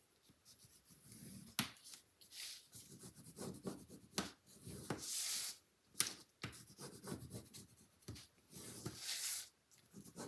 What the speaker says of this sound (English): burnish your tape down really, really well